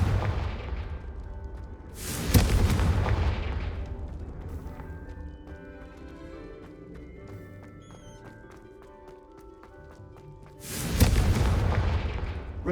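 In the Hogwarts Legacy video game, two heavy Confringo spell explosions land about nine seconds apart, each a sharp booming blast with a long rumbling decay, while quieter chiming magic effects and ambient game sound fill the gap between them.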